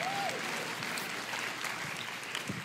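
Applause from a church congregation fills the whole clip, a steady wash of many hands clapping at moderate volume with a few brief louder claps near the end and no voices over it.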